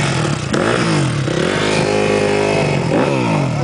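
A small motorcycle engine revs up and down repeatedly on a dirt trail, loud and close, with rising and falling pitch sweeps and no speech.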